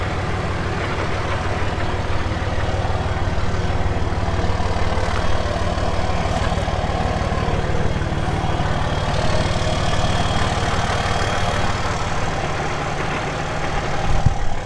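A farm vehicle with a modified exhaust idles close by, a loud, steady low rumble with a throbbing pulse that holds level throughout, with a brief louder surge at the very end.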